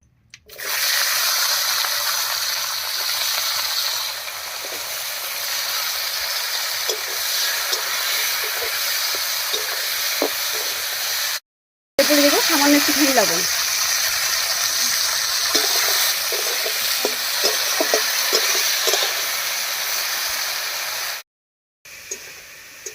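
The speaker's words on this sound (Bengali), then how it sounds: "মাছ ভাজার এই তেলের মধ্যে বরবটিটাও হালকা করে ভেজে নেব" Long beans fried in leftover oil from frying fish: a loud, steady close sizzle and hiss, briefly broken by two short gaps, with scattered pops and crackles and no talking.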